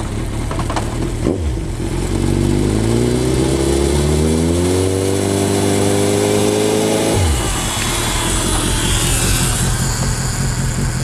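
A motorcycle engine, still cold, runs in gear and revs up steadily as the rider shifts into second and then third, rising in pitch before easing back to a loud, steady drone with no voices.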